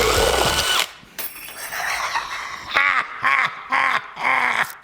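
A cheap power tool fitted with a saw attachment whines in short, repeated bursts, its motor pitch swooping up and down with each pull after an initial loud run, close by and without talk.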